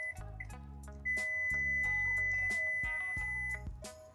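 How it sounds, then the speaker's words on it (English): An LGT Soundboard neopixel lightsaber's steady high-pitched electronic tone sounds while its volume goes up, framed by a few short beeps, with low hum and clicks underneath. "Then it'll play a high-pitched beeping sound."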